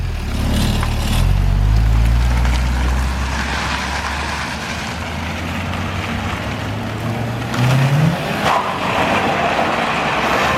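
A standard budget Subaru car's engine revs and strains during an attempted drift, loud and close, with a rising roar early on, a steady drone, then a brief sharp rev near the end.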